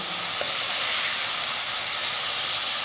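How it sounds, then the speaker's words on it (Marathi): Prawns frying in a pan, a continuous loud hiss of spitting oil that holds steady throughout, with one faint tap near the start and no talking. "आता ही कोळंबी मी दोन बॅचेसमध्ये फ्राय करून घेणार आहे"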